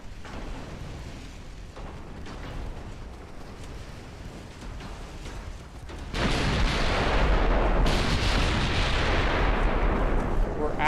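Naval main gun fire in the game Ultimate Admiral Dreadnoughts, rumbling distant booms under ambient battle noise, then a sudden loud sustained roar of heavy gunfire that continues to the end.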